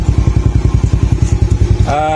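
A Suzuki Smash motorcycle engine on its first start, near and loud with a fast, regular putting beat that steadies into an even running note at the end.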